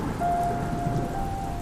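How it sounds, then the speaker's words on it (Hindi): Heavy rain falling in a steady, dense wash of noise, with a faint sustained tone running through it. "आज सुबह से ही झमाझम बारिश हो रही थी।"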